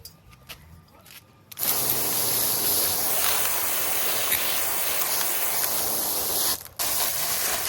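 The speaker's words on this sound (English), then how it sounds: "We're just rinsing off that polish. Rinsing off the sugar, and rinsing out the soap." Water sprays in a steady, close hiss, rinsing polish, sugar and soap off green serpentine stones from a vibratory tumbler, briefly interrupted once near the end, with some clinking and handling before the spray starts.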